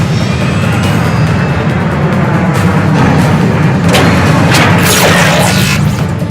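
Unmanned MQ-320 drones closing in during a Metal Gear Rising battle, a loud, dense roar of engine noise and rumbling blasts with sharp bursts of crackling, near and steady throughout.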